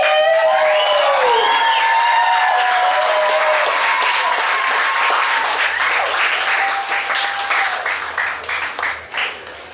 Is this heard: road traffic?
no